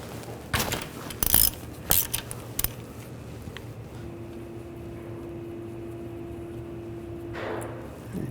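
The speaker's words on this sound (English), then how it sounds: "And take the drain plug out." A ratchet with a 17 mm socket loosens the oil drain plug under a 2009-2010 BMW 535i xDrive, giving a few sharp close clicks and clanks, then a quieter steady hum.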